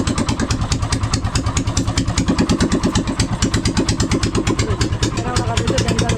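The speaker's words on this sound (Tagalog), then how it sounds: "maayos yung kanyang makina." A repaired boat engine runs steadily at idle, a fast, even chugging pulse with clattering mechanical texture, close and loud throughout.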